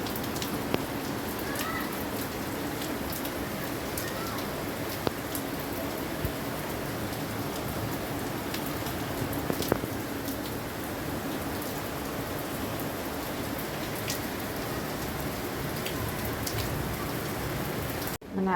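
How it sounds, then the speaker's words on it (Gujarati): Heavy rain from the season's first downpour pours steadily on a house, a dense even hiss of drops on surfaces lasting throughout without a break, close and loud, with no voices. "તો વરસાદ પડવાનું ચાલુ થઈ ગયો છે"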